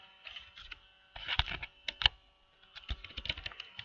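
Close, quiet clicks on a computer keyboard in short bursts of rapid keystrokes separated by brief pauses, with no talk, as an HTML page title is typed.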